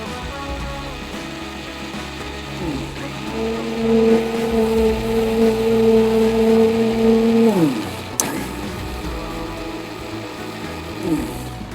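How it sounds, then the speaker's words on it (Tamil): A kitchen mixer grinder blends tomatoes into paste, a close mechanical whirring grind that rises into a steady high motor whine, then cuts off with a click before spinning down. "ஸோ தக்காளி அதை போட்டுட்டு அதையும் நம்ம பிளெண்ட் பண்ண போறோம்."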